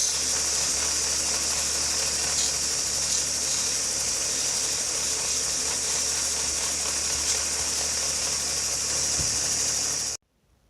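Steady continuous whir of a polishing wheel as a petrified wood cabochon is held against it, a constant high hum with faint light scraping throughout, then cutting off abruptly near the end.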